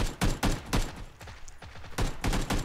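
Rapid bursts of gunfire in the battle-royale video game PUBG, several loud volleys with short gaps between them, close and sharp, with no talking over the shots.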